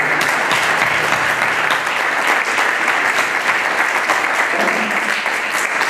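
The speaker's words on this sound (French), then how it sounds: "je vous demande encore une fois de les applaudir et je vous dis bravo" An audience applauds future elected officials at a French local election programme presentation, a loud, dense and steady wash of many clapping hands lasting throughout without a break.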